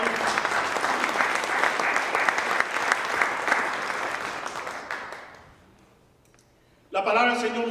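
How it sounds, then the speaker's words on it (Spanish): A church congregation claps loudly and steadily for several seconds, then the applause fades to near silence before a voice resumes speaking. "Denle un fuerte aplauso al Señor."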